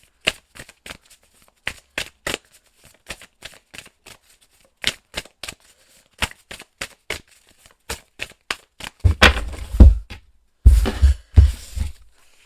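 Tarot cards shuffled and riffled by hand for a monthly reading, a run of crisp separate flicks and slaps, then denser, louder bursts of riffling near the end, close and alone.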